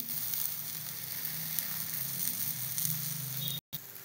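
Ragi roti cooks in oil on a pan, a steady close sizzle and light crackle of frying throughout, briefly cut by a short gap near the end, with no talk.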